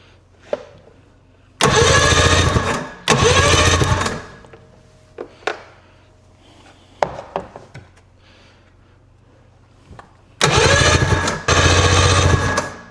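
An old barn-found snowmobile engine cranks over on its electric starter in several loud, sustained bursts, with a few short clicks and knocks between them and no voices.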